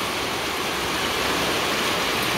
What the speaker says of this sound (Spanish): Se viene la lluvia.